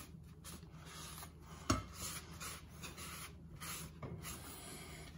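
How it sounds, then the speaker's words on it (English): A cloth dabbed with olive oil rubs along the blade of a Coolina Promaja chef's knife, making a soft, steady rasping swish with one sharper scrape partway through, close and quiet. "I'll go back to the part of the cloth that has some olive oil on it and I'll give it a little rub."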